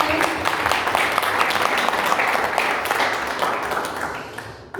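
An audience breaks into sustained applause at a bilingual Korean-Spanish gathering in Temuco, a thick, continuous clapping that holds steady and then fades toward the end.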